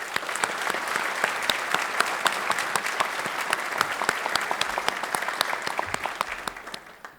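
Steady applause from the audience at the 117th Greensboro Police Academy graduation, moderately loud with sharp individual claps standing out, continuing evenly and then tapering off at the very end.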